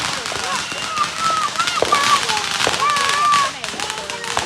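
Backyard fireworks fountains going off with crackling, popping bursts and whistling rising tones, loud and continuous at close range, with people talking and cheering over them.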